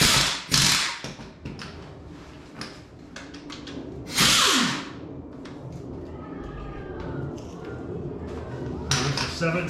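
A ratchet tightens bolts on a WRX-powered VW Beetle engine in a garage, with bursts of quick clicking and metallic taps, a few louder clanks and thumps, and someone talking intermittently between them.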